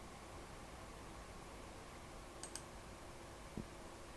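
A computer mouse gives a few sparse, faint clicks close by against a quiet background hiss, with one pair of clicks near the middle and a single click later.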